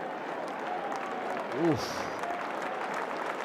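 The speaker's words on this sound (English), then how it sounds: "It's the English fans, I think, who are applauding Dryden Cars." English cricket fans at Lord's applaud during an England v India Test, a steady patter of distant clapping, with a short vocal exclamation rising briefly over it.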